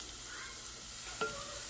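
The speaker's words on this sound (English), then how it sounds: "I put some butter down and I'm browning it." Sausage browns in butter in a pan with a soft, steady sizzle and one brief clink of a utensil midway, close and low in level.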